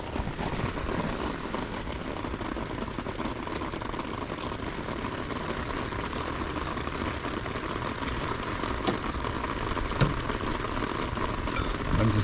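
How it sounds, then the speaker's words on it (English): Rain falls outdoors as a dense, steady hiss with scattered sharper drip taps, close and constant throughout with no voices. "Oh, that is rain."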